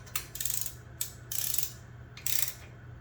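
Wrench ratcheting on the valve cover studs of a BMW Airhead motorcycle engine, three bursts of rapid clicking separated by brief pauses, close and clear.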